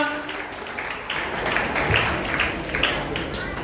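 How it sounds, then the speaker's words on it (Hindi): Audience applause at the close of a chess tournament in Satna, a steady, loud wash of many hands clapping alone for a participant, sustained throughout without a break. "पृथ्वीराज सिंह के लिए जोरदार तालियां"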